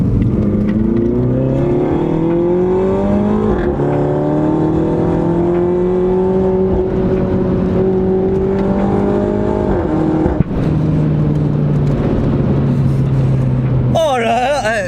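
A 300-horsepower Mini Cooper S accelerates hard with its exhaust valves open, the engine note climbing through strong rising harmonics, dipping at gear changes and staying loud and close throughout.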